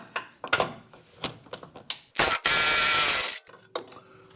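A ratchet wrench turns the nut and bolt on the front control arm of a 1978 Corvette, sounding as a series of close, crisp clicking bursts with a longer loud rasping ratchet run in the middle.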